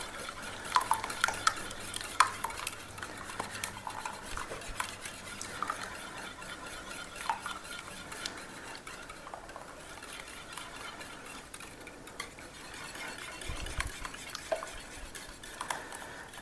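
A utensil stirs egg mixture slowly into bread dough in a bowl, with soft scraping and light clinks repeating irregularly and close by for a long stretch, with no talk.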